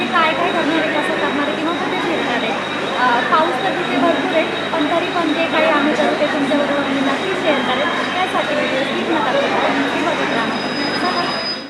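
Busy railway platform noise: trains rumble and screech nearby with a dense wash of crowd chatter and voices talking throughout.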